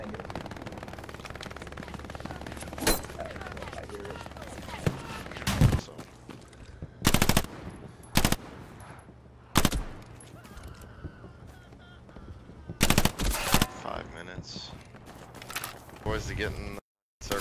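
Loud gunfire from the shooter game Hell Let Loose comes as sharp single shots and short bursts spread through the scene, mixed with ongoing talk from players.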